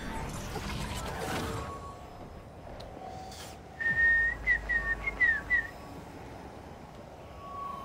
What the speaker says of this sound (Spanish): Perdón si chiflo de repente así